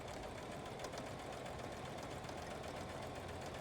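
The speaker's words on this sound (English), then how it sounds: "and I continue sewing." Sewing machine stitching fabric, a steady, continuous close mechanical whir with a fast even rhythm that runs unbroken throughout.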